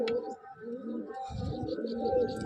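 A pigeon coos softly and close by, a short low rolling call over quiet background, with a brief sharp sound at the start.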